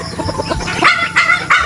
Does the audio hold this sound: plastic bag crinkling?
no